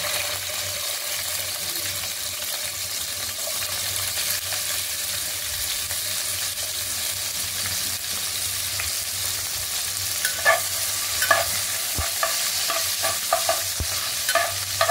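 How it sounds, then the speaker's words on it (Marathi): Chilies stirred in a hot pan while cooking egg fried rice, a steady sizzle with scraping and clinking of a spoon against the pan growing busier toward the end, close and without talking. "मिरची चांगली ढवळून घ्यायची।"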